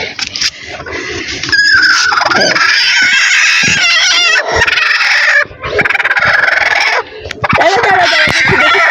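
Egg-laying domestic hens cluck loudly and continuously nearby, with overlapping squawks and calls from several birds, briefly dipping in two short pauses.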